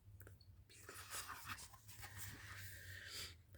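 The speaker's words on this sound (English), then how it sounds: "I think that's her dog, Paw Paw." A dog breathes in quick, steady pants close by, soft and rhythmic over a low constant hum, with no talking.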